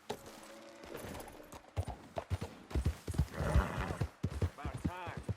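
A horse gallops in Red Dead Redemption 2, its hooves pounding in quick rhythmic clip-clops close by, with a whinny partway through and a voice speaking over the hoofbeats.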